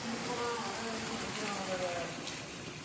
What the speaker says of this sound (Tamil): எப்படி மழை பெய்யுது பாருங்கள்